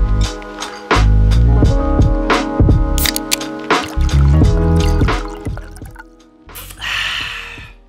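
Beer is poured into a glass in a home office, a close gurgling, trickling stream with drips and glugs that thins out and stops, followed by a short fizzing hiss.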